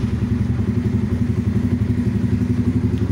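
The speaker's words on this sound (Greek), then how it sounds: "Το μηχανάκι παίρνει μπροστά." A modified Honda CBR 125 motorcycle engine starts from cold and idles close by with a steady, low, rapid putter and a slight mechanical clatter.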